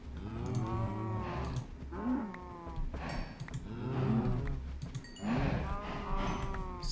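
Cows in the modded Minecraft pack Feed The Beast, several long, low moos in quick succession, overlapping and fairly close, with no talk over them.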